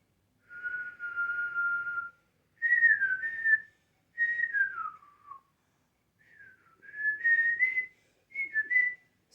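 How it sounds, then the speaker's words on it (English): A person whistles through puckered lips in a cozy at-home setting, giving five or six clear, close melodic phrases with sliding pitches, separated by short pauses, with no talk. "There's a whistle tutorial for you."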